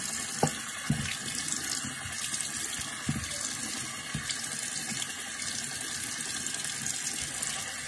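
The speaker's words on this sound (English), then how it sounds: "That really took a whole minute to rinse off my face" Water running steadily from a faucet into a sink while someone rinses their face, a continuous close hiss with occasional splashes and drips.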